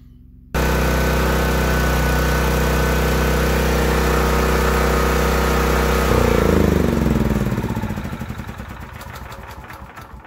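A portable generator engine runs at a steady, loud drone, then is shut off with its kill switch about six seconds in, the tone sagging and fading out over the last few seconds.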